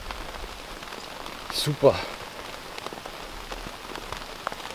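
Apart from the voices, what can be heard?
rain falling while carp fishing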